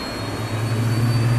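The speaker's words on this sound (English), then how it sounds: "There's our plane. Let's get it fired up. Are they gonna let us fly the jet?" Jet engine of a plane firing up in the video game Resident Evil 6, a steady low rumble and roar that swells slightly as it builds, with no speech.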